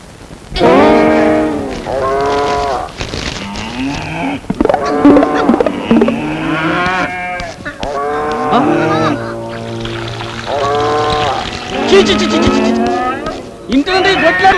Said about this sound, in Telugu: సెంటు నొక్కుతుంటే బర్రెల సౌండ్ వస్తుంది